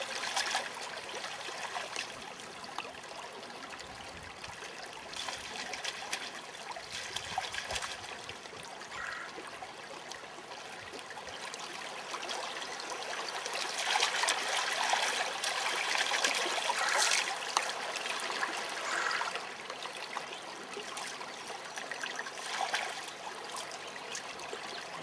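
Creek water running steadily while muddy harvested watercress, roots and all, is rinsed in it; a continuous close trickling and splashing flow that swells louder midway, with no talking.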